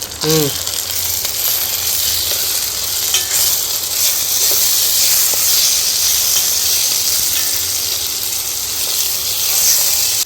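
Mutton pieces with garlic paste for a mango mutton curry, sizzling loudly in a pan while being stirred, a dense, steady hiss throughout with a brief voice at the start.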